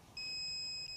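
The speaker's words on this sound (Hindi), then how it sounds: "अब आप देखिए कि अलार्म बीप करने लग गया" A social distancing alarm device beeps loudly and continuously with a steady high-pitched tone, sounding close up after a brief quieter lead-in.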